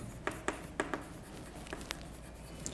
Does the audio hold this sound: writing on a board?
yes